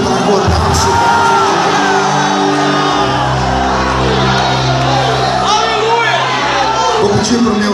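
A church congregation at a missions congress in Pernambuco shouts and cheers loudly together, a dense roar of many voices over sustained music.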